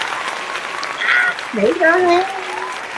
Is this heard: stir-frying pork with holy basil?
no